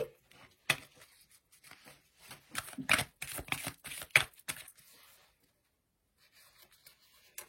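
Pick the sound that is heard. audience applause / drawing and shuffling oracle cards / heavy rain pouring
drawing and shuffling oracle cards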